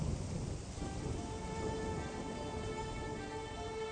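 Steady rain pours down in a thick, hissing wash, with a low rumble of thunder rolling beneath it. The storm sounds constant and enveloping throughout, fairly close, with no voices.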